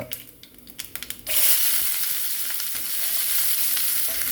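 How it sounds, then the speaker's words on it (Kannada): Onions hit hot oil in a pan already seasoned with cumin and mustard seeds, a few quick clicks giving way to a loud, steady sizzle that holds for several seconds with no talk. "ಉಳ್ಳಾಗಡ್ಡಿ ಹಾಕೊಂಡು ಚಂದಗೆಲ್ಲ ಫ್ರೈ ಮಾಡ್ಕೊತೀವಿ"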